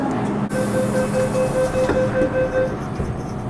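A train passing close by, loud rumbling and rattle of rail cars with a sustained tonal whine from the wheels and motors, plus a sharp knock near the start.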